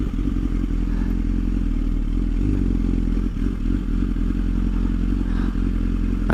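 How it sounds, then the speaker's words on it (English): A motorcycle makes a slow U-turn and pulls in to park beside other motorcycles, its engine a steady close low rumble with some clatter and scraping, and no talk. "I'm going to U-turn and park next to those other motorcycles."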